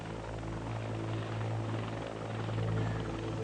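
A helicopter's rotor thrums steadily and loudly, a constant pulsing drone that fills the whole stretch without pause.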